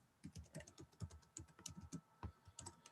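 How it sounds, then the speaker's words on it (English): Quick, uneven clicking of keys on a computer keyboard during a chat about custom polystyrene RC bodies, close but quiet, with no talk over it. "I'm typing it there"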